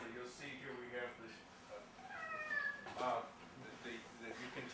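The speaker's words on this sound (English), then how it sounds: "You can tell the cat is still alive," A cat meows a few times in short, drawn-out cries, close and fairly clear, overlapping with a voice speaking.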